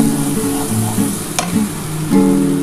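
Water hits oil-soaked fried masala in a pan, setting off a loud, steady close sizzle with brief splashing bursts and no voices.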